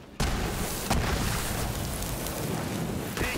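An explosion in the video game Borderlands 3 bursts in suddenly after a brief silence, a loud roaring blast that holds as a dense rumbling wash for a few seconds with a second thump partway through.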